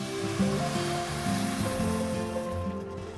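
Two cups of water pour into a hot pan of sautéed spices and paprika, a loud, continuous rushing sizzle with bubbling and splashing that holds for a few seconds and then starts to settle, heard alone without talk.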